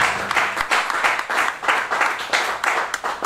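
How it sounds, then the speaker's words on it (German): Applause from a concert audience at an evening reading-pavilion event, heard in uneven rhythmic waves of clapping at moderate level, swelling and easing across the short stretch. "einen ganz großen Applaus für Olli Häfle und sein gesamtes Team hier vom Lesepavillon"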